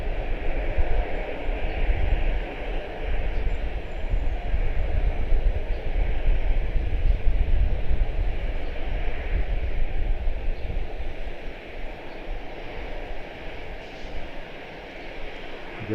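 An Airbus A319 airliner at Charlotte-Douglas International Airport gives a steady, broad jet engine roar with some wind rumble, at a distance, holding constant throughout with no voices.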